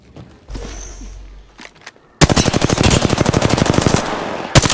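Rapid automatic gunfire rattles in a fast, continuous burst, loud and close, preceded by quieter scattered game sounds and a low rumble.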